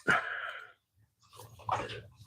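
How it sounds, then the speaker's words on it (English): Two short dog barks or yelps, one at the start and another about a second and a half later, with a low rumble between them. "They're barking at each other."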